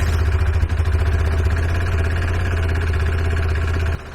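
KTM 390 Adventure motorcycle engine running steadily close by with a busy mechanical clatter, then cutting off abruptly near the end.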